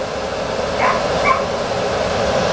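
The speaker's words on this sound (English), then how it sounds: "Okay, so we have 43 amps and a blower motor." An HVAC blower motor on a system running in cooling mode gives off a steady, even whooshing hum, with two brief faint squeaks partway through and no voices.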